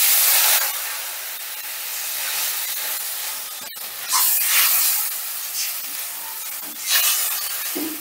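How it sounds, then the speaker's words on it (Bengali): Water poured into a hot pan of mustard hilsa gravy, a loud rushing hiss and steamy sizzle that swells several times and then settles, with no voices. "সবটা বেশ ভালো করে মিশিয়ে নিয়ে গ্রেভির জন্য দিয়ে দিচ্ছি জল"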